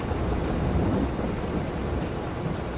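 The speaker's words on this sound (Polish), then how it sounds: "Ale zagrzmiało." Thunder rolls during a rainstorm over farm fields at harvest, as one deep, continuous rumble under the hiss of rain lasting about three seconds, with no one talking.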